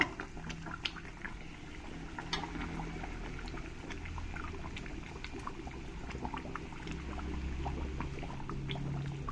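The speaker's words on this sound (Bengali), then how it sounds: "দেখো ঝোলটা ভালোভাবে ফুটে গেছে" Mustard gravy for a pomfret fish curry bubbles in a pan at a steady low boil, with soft, busy popping and crackling throughout, faint and close with no voices.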